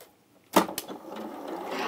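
A sewing machine stitches quilt pieces, starting with a couple of sharp clicks before settling into a soft, continuous whirring run.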